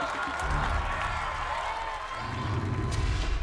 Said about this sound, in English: But the crowd rewarding her.